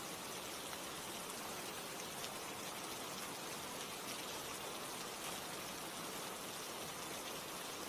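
Steady rain falls without pause, a dense, even hiss of drops with no break or change in strength, close by and alone with no voices.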